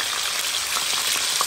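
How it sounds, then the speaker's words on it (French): Shrimp frying in a hot pan give a steady, loud sizzle with scattered pops and crackles, close up and without talk. "Je chaude les camarons, je laisse dedans, je fais rougir les camarons"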